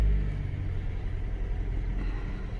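A Rover 214/216 engine idles steadily and smoothly up close, a low even rumble with no voices over it.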